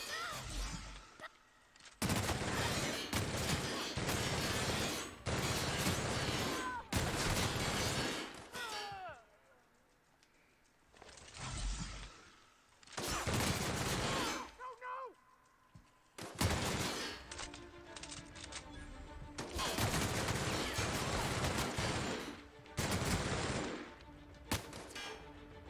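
Bursts of gunfire from The Outer Worlds video game, loud sustained volleys of rapid shots broken by brief pauses, with faint game sounds in the gaps.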